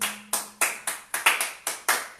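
Applause from a church congregation at a sermon, heard as a rapid run of about ten sharp bursts of clapping, close and fairly loud, with no voices.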